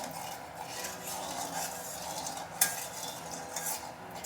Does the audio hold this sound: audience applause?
no